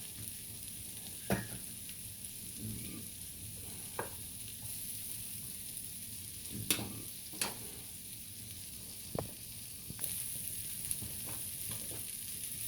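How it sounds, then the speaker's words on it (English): Onions sizzle steadily in a hot skillet, a constant crackling hiss broken by a few sharp pops and occasional stirring scrapes. "we're gonna get some onions off in there. Let them start frying."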